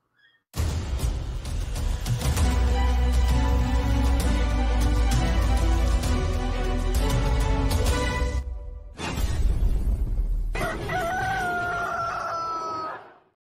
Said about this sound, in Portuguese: bora trocar a vinheta que agora é mercado da bola